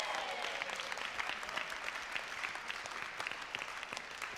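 An audience at a live event claps in a dense, lively round of applause, with individual claps standing out over the steady wash.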